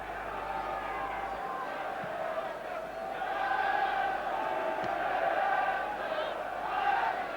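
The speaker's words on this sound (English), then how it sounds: "A really big and noisy crowd here at Hillsborough today." A big, noisy football crowd at Hillsborough for Sheffield Wednesday against Arsenal: a continuous, far-off roar with swelling chants that rise and fall throughout.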